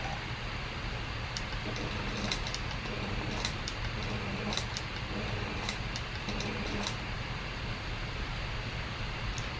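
A sewing machine stitches a quilt border, a fast steady mechanical whir with faint ticking running evenly throughout at moderate level, no voices.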